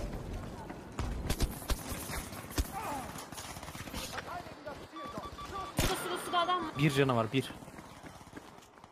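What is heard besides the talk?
footsteps in Battlefield 5 video game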